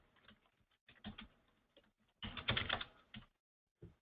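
Someone types on a computer keyboard, with scattered key taps, then a quicker flurry of clicks, a short pause and a final stray keystroke, all close and fairly quiet.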